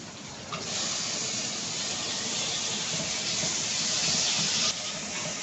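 Tomato goes into softened onions frying in a pan, and a broad, steady sizzling hiss starts abruptly and holds close and even throughout, with no talking.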